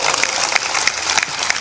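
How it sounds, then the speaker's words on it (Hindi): A seated audience at a spiritual discourse in a pavilion claps, a brief, continuous patter of many hands at moderate loudness, with individual claps popping out of the steady texture. "जोर से ताली बजाया करो।"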